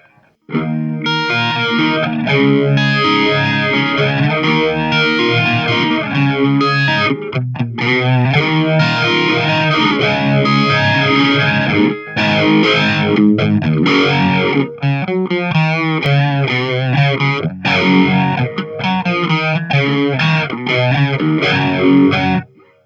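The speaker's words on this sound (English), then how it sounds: "And next we have the vibe. It's supposed to sound like a univibe," Distorted electric guitar through a Marshall MG100HCFX amp's univibe-style effect plays continuously with a warbling, pulsing modulation that makes the tone swirl and throb throughout.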